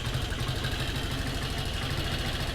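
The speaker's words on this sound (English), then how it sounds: "listening to the sound of the motorcycle to find where it has a decent idle, but is not going to turn off on me" A motorcycle engine idling after an air screw adjustment, a steady close, loud low chugging rumble with a fast even pulse and no changes in speed.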